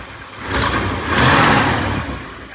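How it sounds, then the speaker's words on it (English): A 1959 Lincoln V8 idles close by with exhaust leaks at the collector where it meets the manifolds, its steady rumble swelling twice with slight revs, and no talking. "All right, so I got her fired up. Definitely has some exhaust leaks down the collector"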